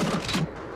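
Electron Bolt sniper rifle shots in the video game Star Citizen, a short burst of crackling energy fire that quickly fades into quiet.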